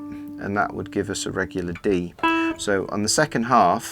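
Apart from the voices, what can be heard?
No everyday noise stands out behind the speech.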